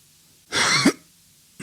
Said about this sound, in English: when I clear my throat